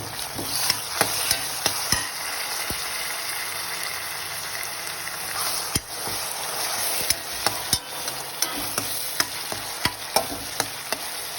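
Tomatoes frying in a pan with onion and salt over a lowered flame, a steady sizzle running throughout with sharp scraping and stirring knocks of a spoon against the pan at irregular intervals.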